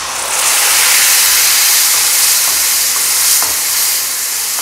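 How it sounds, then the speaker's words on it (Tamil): Tamarind paste hits hot oil in a pan and breaks into a loud, steady sizzle and bubbling hiss that keeps going close up, with soft stirring scrapes now and then. "இப்போ புளிக்காய்ச்சலை ஊற்றிக்கலாம்."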